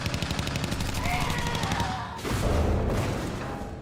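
Gunfire rings out in a horror film zombie scene: a fast rhythmic burst of shots, then a heavier, louder blast and rumble toward the end.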